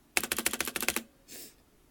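Keys on an Azio MGK-1 mechanical keyboard clatter in a quick run of about nine crisp clicks, followed by one softer, duller press, recorded up close and quiet with no talking.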